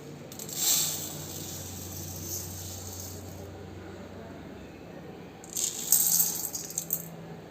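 Foxtail millet and urad dal being washed in water in a bowl, soft swishing and rattling of grains, with brief gritty bursts near the start and again toward the end, fairly quiet and close.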